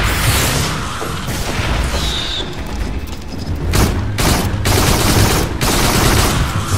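Rapid gunfire shooting at the player in the VR shooter Farpoint, loud bursts and volleys of shots that swell and break into sharp repeated cracks, with a faint voice underneath.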